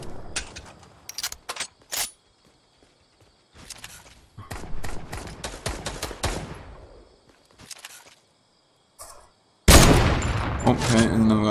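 Automatic gunfire in Fortnite, several quick bursts of sharp shots separated by short pauses, each burst loud and close, ending in a louder, denser stretch of fire with game effects. A player talks during the clip.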